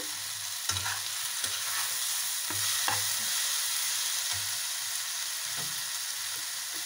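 Water spinach stir-frying with a dried chili in a pan: continuous loud sizzling, with the spatula scraping and stirring in regular strokes and no voices.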